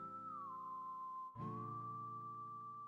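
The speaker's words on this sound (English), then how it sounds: "I love this whistling." A steady, clear whistled melody from the video game Wild Arms, a single sustained tone that dips briefly and then resumes over soft background music, played alone at low volume.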